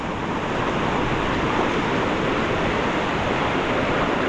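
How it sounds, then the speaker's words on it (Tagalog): A swollen river at Dumacaa rushes past in a broad, constant roar of flowing water, close and loud with no break and no voices. "Malaki-laki po ngayon ng ilog."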